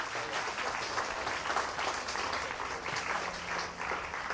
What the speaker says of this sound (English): we would want to give them a big round of applause for their sponsorship